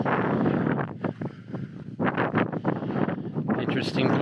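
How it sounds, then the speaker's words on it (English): Strong gusty wind buffets the microphone outdoors at Mont Albion, a loud continuous roar with surging bursts, and a person talks under it. "battle this wind by the look, because it's still quite windy"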